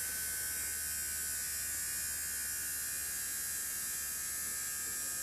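Battery-fed electric motors at around 4,700 RPM give off a steady, high whining hum with a buzzing tone that holds almost level throughout, with no talking.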